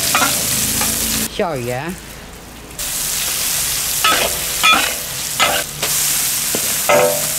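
Chili peppers stir-fry in hot oil in a wok with a steady close sizzle, broken by repeated scraping strokes of the spatula; someone speaks briefly.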